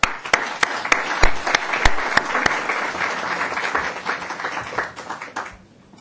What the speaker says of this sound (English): Please join me in welcoming Professor Khalidi.